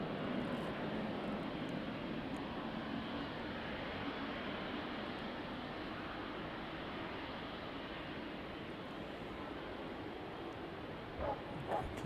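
A Boeing 777 at East Midlands Airport produces a broad, steady engine roar that holds loud and continuous, with faint distant sounds and a brief bump near the end.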